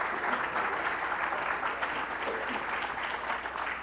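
An audience applauds at a conservative political conversation event, with dense, steady clapping filling the hall throughout and no voices over it.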